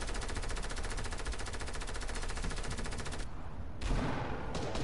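Rapid-fire pistol shots in an arena video game crackle in a dense, continuous burst, loud and close, with a brief pause before the firing resumes; no talking.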